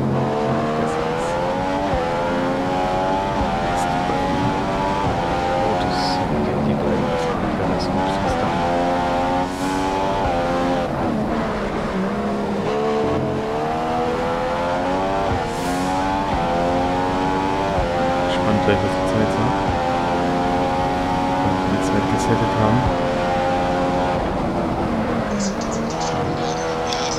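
A Mercedes Formula 1 car in F1 2015 on the Bahrain track, its high-pitched engine screaming and climbing through gears without a break, with a voice talking over it.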